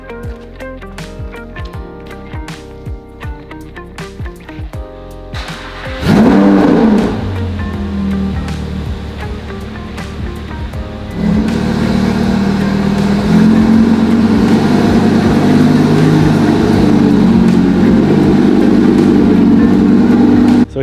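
A Lamborghini Huracan fitted with a new carbon front lip starts up and rumbles as it is pulled out of the shop. A loud engine burst leads into a steady deep idle and a low rolling drone that continues to the end.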